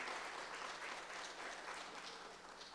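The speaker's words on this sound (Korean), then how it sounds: "감사의 영광의 박수를 하나님께 올려드립니다" Church congregation claps steadily and fairly evenly throughout during a Sunday worship service, a dense wash of many hands with no voices on top.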